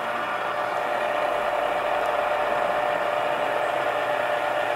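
Milling machine spindle turning at 500 RPM while slotting and pocketing, a steady close mechanical whir and hum with no pauses.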